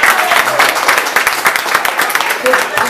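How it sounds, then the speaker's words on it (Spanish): Brief, lively burst of audience applause at a community gathering in a New York restaurant, uneven clapping with a few voices mixed in. "un aplauso a la persona"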